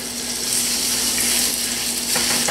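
Venison tenderloin searing in a very hot frying pan with extra virgin olive oil, a steady, loud crackling sizzle that fills the whole moment without pause, close and continuous with no voices over it.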